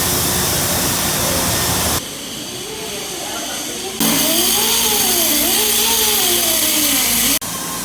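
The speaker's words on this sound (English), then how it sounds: "Doing some polishing." A polishing machine whirs on amethyst crystals and geodes at an amethyst mine workshop. Its steady hiss carries a rising and falling mechanical whine, and the sound cuts abruptly between loud, continuous sections.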